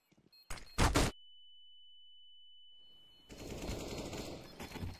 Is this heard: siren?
no